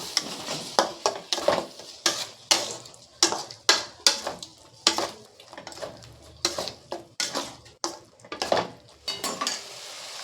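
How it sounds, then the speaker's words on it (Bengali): Spice paste being fried in oil for a raw-mango chicken curry, with a spoon repeatedly scraping and stirring around the pan in quick, irregular strokes over a soft background sizzle, close and fairly loud, with no voices. "আর এখানে 2 চামচের মতন তেল এখানে দিয়ে দেব, দিয়ে মশলাটাকে আরও ভালো করে একটু কষিয়ে নেব"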